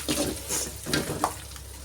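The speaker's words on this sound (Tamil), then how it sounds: "வெங்காயம் போட்டு கலக்கி விட்டுக்கலாம். கருவேப்பிலை போட்டுக்கலாம் ஃப்ரெண்ட்ஸ். வதக்கி விட்டுக்கலாம்." Onions and curry leaves frying in a pan while being stirred, soft sizzling with several brief scraping strokes of a spoon against the pan, close and fairly quiet, no talking.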